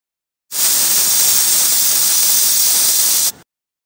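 A pressure cooker cooking potatoes on a gas stove lets out a loud, steady hiss of steam that lasts about three seconds and then cuts off abruptly, heard close with no talking.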